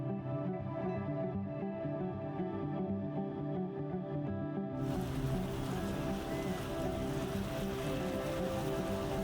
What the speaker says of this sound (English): The sound of waves lapping gently against the hull